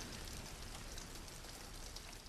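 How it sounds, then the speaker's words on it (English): Steady rain pours over an old damp house with failing gutters, a dense continuous wash of drops striking surfaces close by, even in level throughout with no voices. "It's just started raining while we've been filming"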